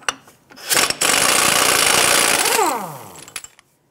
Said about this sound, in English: using a 32mm socket, go ahead and remove your axle nut.